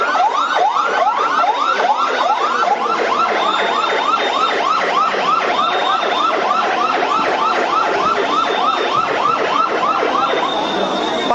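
Fire service vehicle sirens wail continuously at a blaze at a biryani restaurant, a loud, rapid repeating yelp pattern with overlapping tones that fills the whole stretch without pause, close and dominant over crowd noise.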